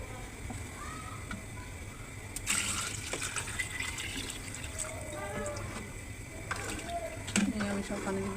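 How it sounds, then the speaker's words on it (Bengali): Water is poured into a pot of boiling Eid sacrifice beef, a soft running gush and splash, faint under steady background noise with a few clinks. "আমি সব পানি দিয়ে দিচ্ছি"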